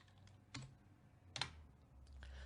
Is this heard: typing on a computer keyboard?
yes